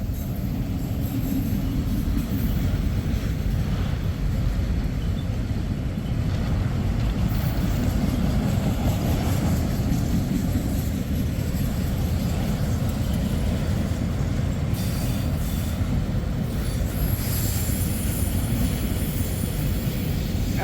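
A diesel train on the Mount Victory line rumbles past at a steady, continuous roar, with a broad low drone and no break for the whole passage.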